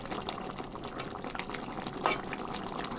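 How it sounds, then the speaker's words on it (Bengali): A pot of tengra fish, eggplant and potato curry boils and bubbles quietly on the stove, with a steady soft simmering texture and faint pops, and no voices. "পাঁচ মিনিট ফুটিয়ে লাভিয়ে নেব"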